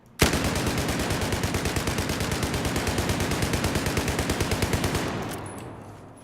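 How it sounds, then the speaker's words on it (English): U-100 MK5 light machine gun with red dot sight and muzzle brake fired from the hip in Battlefield 4, a loud, unbroken five-second burst of rapid, evenly spaced shots that stops abruptly, leaving a brief fading echo. "Let's take a look at hip fire without countering the recoil."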